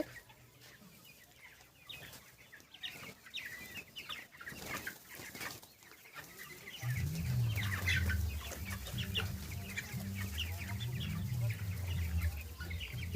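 A flock of broiler chickens on straw bedding clucks and chirps throughout, quieter at first, then joined by a louder, rhythmic low murmur from the birds about halfway through.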